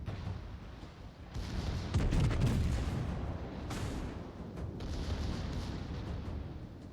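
Heavy battleship AP salvo gunfire in the World of Warships video game: deep booming blasts and rumbling, a denser burst in the middle, fairly faint with no talk.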